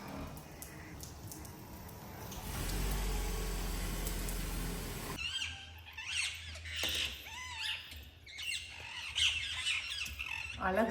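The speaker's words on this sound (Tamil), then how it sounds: "இந்த மாதிரி தாங்க கிளிங்க கத்துற சத்தம் கேட்டுச்சு" Parrots screech outside near a house window, giving repeated harsh squawks over a background of broadband noise. A voice can be heard in the mix.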